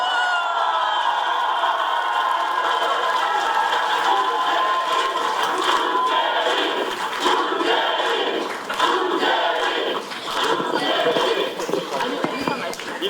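A large crowd roars and cheers steadily in the Busan Ilbo auditorium at a 2017 party welcome event, a loud, dense wall of voices that holds for the whole span with slight swells.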